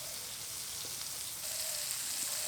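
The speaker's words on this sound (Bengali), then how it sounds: "আগে চিকেনটাকে একটা দিক খুব ভালো করে সেকে ভেজে নেবো" Chicken pieces for shawarma fry one side down in a pan, giving a steady, soft sizzle and crackle with light spattering throughout. No one speaks.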